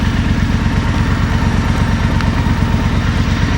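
Motorcycle engine running while riding around town, a loud close steady pulsing thrum with continuous wind noise over it.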